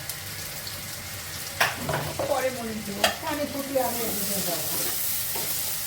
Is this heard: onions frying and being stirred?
yes